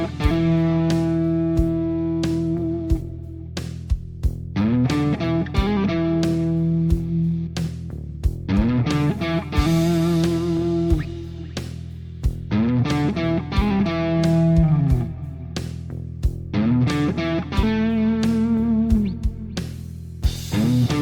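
An electric guitar on the neck pickup plays a melodic motif of bent, sustained notes, soaked in delay and reverb that fill the gaps between phrases, continuous and loud throughout.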